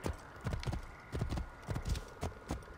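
Rhythmic clip-clop of horse hooves at a quick gallop in Assassin's Creed Origins, several beats in quick succession, clear and close with no talk.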